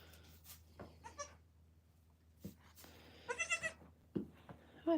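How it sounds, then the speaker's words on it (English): Baby goats bleat on a goat farm, several short, high cries scattered across the clip at close range against quiet background, with a louder burst of bleats near the end. "Amir, I have 5 baby goats right now."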